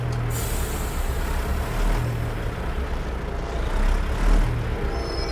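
Truck air brakes in American Truck Simulator, a sharp hiss of released air at the start over a steady low engine rumble, followed by brief faint hisses amid continuous road noise, no talking.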